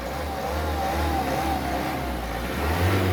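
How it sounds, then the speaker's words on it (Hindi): A 2015 Ford EcoSport Titanium's engine runs with a steady, close mid-pitched drone that swells slightly toward the end, suggesting a light rev, with no voices over it. "और इंजन देखना आप, इसकी नॉइज़।"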